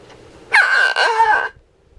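A homemade lion's roar friction drum played unmuted gives one loud, strained groaning roar of about a second, rough and harmonic with a pitch that wavers, heard alone and close against a quiet background.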